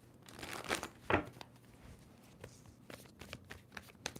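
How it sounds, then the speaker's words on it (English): Tarot cards being shuffled by hand, with soft crinkling riffles and a sharper burst of card noise near the start, then quieter scattered flicks and taps in a close, otherwise quiet room. "Two more shuffles for Capricorn."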